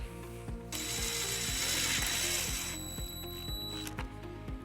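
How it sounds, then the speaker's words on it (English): A ratchet with a 1/4 inch socket drives a self-tapping screw into a 2012 Dodge Nitro during a trailer wiring install, giving a steady run of about a dozen close, regular clicks, with a metallic whir in the middle. "we're going to use the provided self-tapping screw with a 1/4 inch socket"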